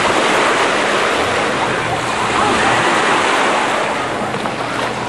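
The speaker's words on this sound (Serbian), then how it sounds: "Talasi su malo dosadni." Sea waves wash in at the beach in Cannes, France, making a loud, continuous surf rush with wind buffeting the microphone throughout.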